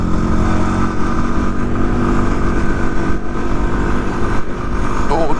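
A WR dirt bike engine drones steadily while riding up a stony trail, loud and close with a rough, continuous rumble and wind buffeting throughout.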